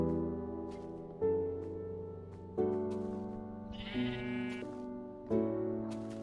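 Sheep in the blocky sandbox game Minecraft bleat five times in a row, each call a clear, close, wavering baa that swells and fades, evenly spaced with no talking.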